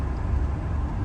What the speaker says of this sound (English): Loads of traffic.